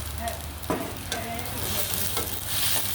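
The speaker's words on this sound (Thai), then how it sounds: "ใส่น้ำซุปลงนิดนึงครับ ลงปลาหมึกเลยครับ" Squid stir-fried in a hot pan with a splash of broth, giving a steady loud sizzle and hiss under a few scraping stirs and clinks of the spatula.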